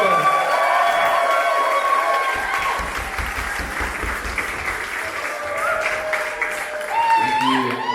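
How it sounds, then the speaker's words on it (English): An audience claps loudly to welcome a speaker at an introduction of the Echoes of Sophiatown project. The clapping is dense and sustained, with a little cheering, and a voice begins talking near the end. "Please give him a round of applause."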